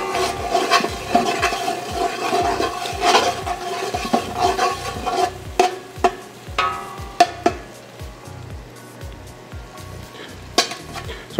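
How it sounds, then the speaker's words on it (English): Onions and jalapenos sauté in a pan over a natural gas flame, giving a steady sizzle with repeated scraping and stirring knocks and occasional clinks of utensil on pan, close and fairly loud with no talking. "When you're sauteing the onions and the jalapenos, you wanna do it till the onions become translucent"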